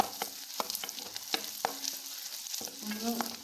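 Chilies sauté in a pan with a gentle crackling sizzle and a series of distinct spatula scrapes and taps at irregular intervals, heard close and fairly quiet.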